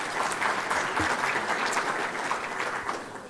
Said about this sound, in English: So please, a round of applause for them as well.